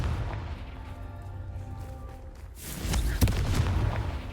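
A fiery Confringo spell explodes in the Hogwarts Legacy video game: a sudden loud, broadband blast bursts in about halfway through, with a sharp crack inside it, and then rumbles on over a steady background hum.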